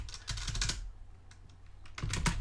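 Rapid clicking keystrokes on a computer keyboard come in two quick bursts with a few scattered taps between, close and fairly quiet with no voices.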